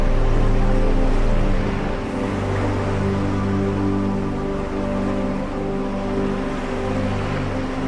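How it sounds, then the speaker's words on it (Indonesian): Ocean waves at Teluk Penyu beach in Cilacap make a steady, broad wash of surf that is a little louder in the first two seconds, then holds a constant rushing roar with no voices. "mendengar musik alami ombak"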